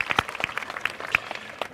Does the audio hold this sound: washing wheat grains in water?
no